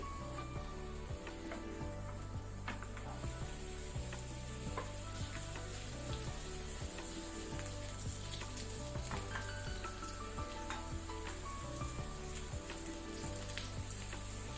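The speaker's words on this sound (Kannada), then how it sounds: "ಈಗ ನಾವು ಪನ್ನೀರನ್ನು ಶಾಲೋ ಫ್ರೈ ಮಾಡ್ಕೊಳ್ಳುವ ಬೆಣ್ಣೆಯಲ್ಲಿ, ಬಟರಲ್ಲಿ" Paneer shallow frying in butter over a medium flame, a steady dense sizzle and crackle running throughout with occasional stirring scrapes, close and continuous with no talking.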